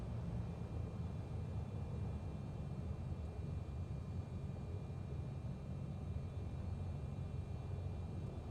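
A Beechcraft Baron twin-engine airplane rolls down the runway after touchdown near Salmon, Idaho, its steady low engine drone and cabin rumble continuing unbroken and loud throughout, with no talk.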